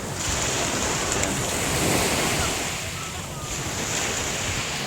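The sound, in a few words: sea waves and wind at beach in Nasugbu, Batangas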